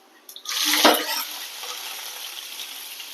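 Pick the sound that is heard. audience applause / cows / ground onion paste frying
ground onion paste frying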